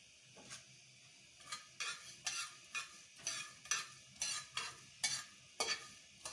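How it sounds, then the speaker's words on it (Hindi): Whole coriander seeds, about a tablespoon, dry-roasting in a frying pan, stirred in a steady rhythm of about a dozen scraping, rustling strokes with a faint crackle underneath and no voices. "ये 1 टेबल स्पून मैंने साबित धनिया लिया जिसे मैं फ्राइंग पैन में रोस्ट कर रही हूँ।"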